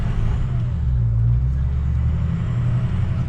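A 2005 Ford F250 diesel 4x4 pickup idling and driving in four-low, giving a deep, steady engine rumble heard close from inside the cab, loud and continuous with no clear revving.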